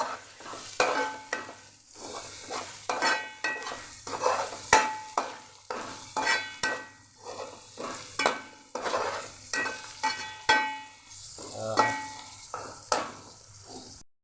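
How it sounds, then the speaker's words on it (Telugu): Ginger paste and fish pieces frying in oil in a pan, a steady sizzle under repeated rhythmic stirring scrapes and clinks of a utensil against the pan, close and fairly quiet, with no talk. "చేప ముక్కలు వేసాను కొద్దిగా దీంట్లో నూనెలో వేస్తేనే మంచిది అల్లం పేస్ట్ అది నూనెలో వేగాలి"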